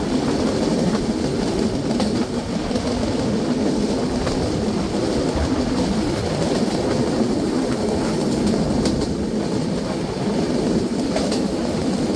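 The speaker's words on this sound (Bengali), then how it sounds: "একদিকে ট্রেনটি পাকশিতে প্রবেশ করছে" Madhumati Express passenger train rolling into Pakshi station near the Padma, a steady broadband rumble with wheel and carriage noise, sustained and fairly loud throughout with no talk.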